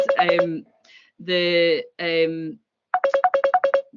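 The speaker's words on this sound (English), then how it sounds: "I think somebody's trying to phone me" A phone ringtone plays in bursts of electronic tones with short gaps, clearly audible and fairly close, during an online webinar.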